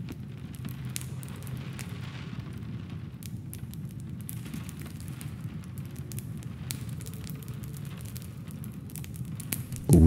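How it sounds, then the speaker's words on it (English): A crackling fireplace, small pops and snaps scattered over a soft, steady low rumble of the burning fire, alone and fairly close. "And there's a fireplace that crackles,"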